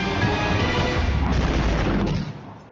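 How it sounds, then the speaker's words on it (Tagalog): A huge explosion roars across a bridge in West Tehran, Iran, during an air strike, a dense, sustained rumbling boom that fills the whole stretch before tapering off at the end. "Dumagundong ang pagsabog sa West Tehran sa Iran nitong Huwebes Santo"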